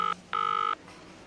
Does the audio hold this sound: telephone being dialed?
yes